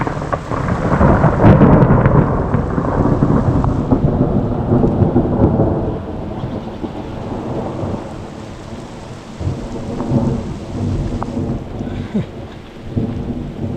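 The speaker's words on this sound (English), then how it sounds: "I'm caught myself in the middle of a rainstorm." Heavy rain pours steadily while deep thunder rolls and rumbles, loudest early on and then easing into a softer, continuous downpour.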